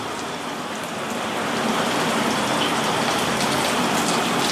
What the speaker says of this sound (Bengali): তারপর আমরা এটা কষাইতেছি পেঁয়াজটা লাল লাল করে ভুনা হয়ে আসলে